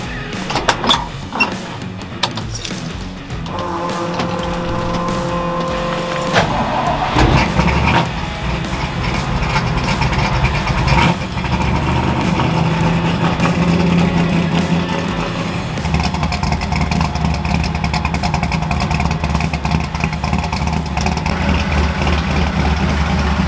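A car engine hums steadily throughout, idling and then pulling away with low rumbling, occasional clunks and shifts, and no talking.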